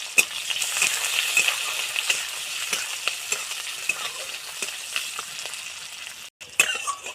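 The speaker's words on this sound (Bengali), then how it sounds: "গোটা জিরে, কুচনো পেঁয়াজ একটু ভেজে নেব।" Whole cumin and chopped onion fry in oil, a bright steady sizzle with scattered pops and spatula taps, briefly cutting out near the end before resuming.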